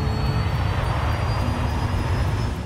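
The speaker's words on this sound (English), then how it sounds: "The A380 is powered by four massive Rolls-Royce engines." Four Rolls-Royce jet engines on a Qantas Airbus A380 produce a loud, continuous, even roar that holds steady throughout.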